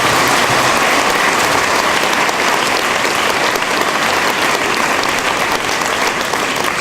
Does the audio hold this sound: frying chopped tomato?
no